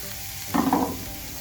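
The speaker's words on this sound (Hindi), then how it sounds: "अब हम डालेंगे चिकन।" Chicken pieces drop into a hot pan of cabbage filling for bun patties, giving a short burst of sizzling and stirring that lasts under half a second against a low background hiss.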